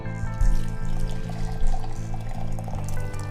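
Hot water pours steadily from a kettle into a French press to preheat it, a close, continuous splashing stream with slight surges, heard alone.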